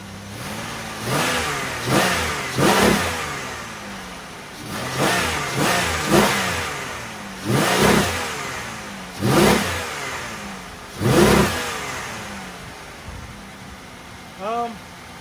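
Car engine with a crank pulley repaired using JB Weld, first started in years, revving in repeated loud bursts roughly every one to two seconds, each rising and falling back toward idle, with a short quieter rev at the end.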